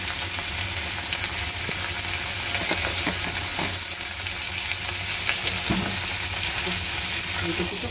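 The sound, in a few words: frying food with turmeric in a pan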